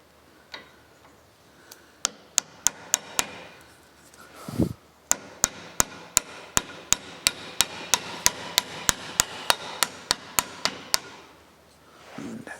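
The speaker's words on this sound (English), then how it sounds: "I'm going to use my soft hammer" A steady run of sharp, evenly spaced soft-hammer taps seating a race car rear suspension part, roughly a dozen in quick succession, ringing briefly, with a dull thump partway through and no talking.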